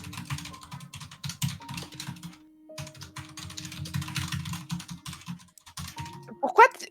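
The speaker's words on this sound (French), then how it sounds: "Pourquoi tu démontes ton clavier en même temps?" Rapid keyboard typing clatters in quick bursts, close to the microphone, with a steady hum underneath and a short pause partway through.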